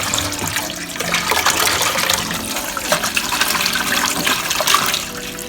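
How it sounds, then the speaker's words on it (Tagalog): Soursop (guyabano) leaves are washed under a running tap, with a steady, close splashing stream of water continuing throughout and no talking. "hugasan na natin yung nakuha kong talbos ng guyabano"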